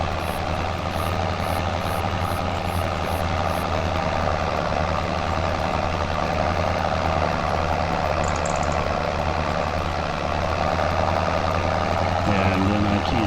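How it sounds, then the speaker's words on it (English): An old tractor engine idles and runs in Farming Simulator 25, a steady loud low drone with a constant hum that continues unbroken for over ten seconds, with faint clicks and a brief rattle near the end. "This seems like an old tractor."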